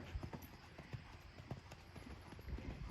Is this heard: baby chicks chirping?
no